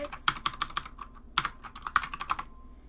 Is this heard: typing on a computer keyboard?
yes